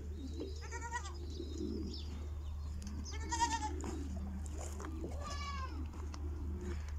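Several goats in a Saudi Arabian village bleat in short, wavering cries, some near and some farther off, spaced a second or two apart over a steady low hum.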